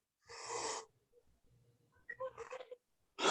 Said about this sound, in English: Big yawn. Apologize for that.